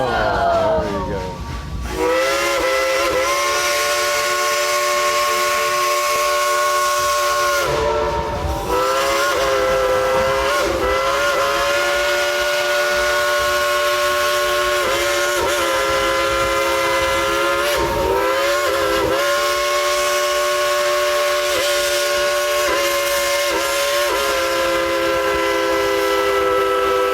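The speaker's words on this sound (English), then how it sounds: "let's all tell that engineer up there to blow the whistle" Dollywood steam train whistle, a loud sustained multi-tone blast repeated in long pulls with steam hiss and brief breaks between, close by.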